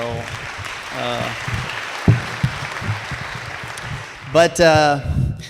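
A crowd at an anniversary celebration breaks into applause under a speaker's continuing voice, the clapping loud and spread across the room with talk on top.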